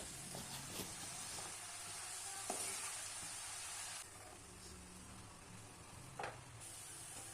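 Chopped onion greens and soaked lentils fry in a pan. A faint, steady sizzle hisses throughout, with a few soft scrapes of stirring and no voices.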